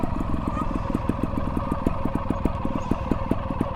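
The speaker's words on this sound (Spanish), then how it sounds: "tocamos con la rueda delantera, soltamos embrague, hundimos suspensión y la moto la lanzamos hacia arriba también con el cuerpo" A trial motorcycle engine runs steadily at close range with a rapid, clattering mechanical pulse as the rider prepares to launch it up a rock step, the motor droning continuously without a sharp rev burst.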